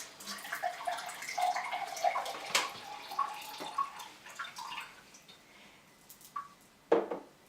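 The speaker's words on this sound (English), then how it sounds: "We can collect a glass of water now." Water runs from an Alkal-Life 7000sL ionizer tap into a glass, making a close trickling and splashing flow with small drips. A few light clinks join in near the end.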